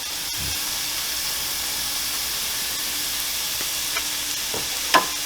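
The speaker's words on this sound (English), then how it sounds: "Give it a quick stir" Vegetables seasoned with onion powder cook in a pan for a Bolognese sauce, giving a steady hissing sizzle with a spatula knock at the start and a few light stirring taps toward the end.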